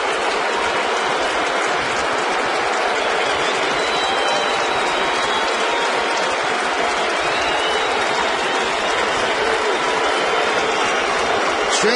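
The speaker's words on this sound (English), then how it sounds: "There's a lot of cheering and some smattering of boos" A big baseball stadium crowd roars on and on after Hideki Matsui's solo home run for the Angels, a loud unbroken wash of cheering and applause that stays dense for the full twelve seconds.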